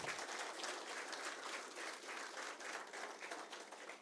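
An audience applauds at a formal event to welcome Union Minister of Ports, Shipping and Waterways Sarbananda Sonowal. Dense, continuous clapping from many hands holds steady and fairly loud throughout, with no speech over it.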